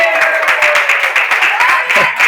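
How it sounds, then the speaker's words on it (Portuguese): Applause from a church congregation during a sermon on family life, steady dense clapping running throughout, loud and close, with a voice speaking over it. "Eu sabia que ela ia aplaudir agora"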